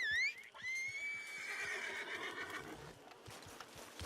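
A mare in Red Dead Redemption 2 lets out a loud, close, rising whinny, followed by a long fading neigh and then scattered clip-clop hoofbeats as she moves.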